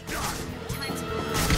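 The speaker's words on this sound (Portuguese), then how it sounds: "Eu atirei no barril." Loud crashing impact of a gunshot hitting a barrel in a video game, a burst of smashing noise that swells again near the end, with no speech over it.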